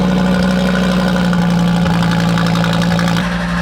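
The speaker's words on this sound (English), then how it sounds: "That doesn't sound like a normal Audi engine, does it?" An Audi race car engine with no exhaust fitted idles loud and close, a raw, lumpy drone with uneven knocking pulses and no voices.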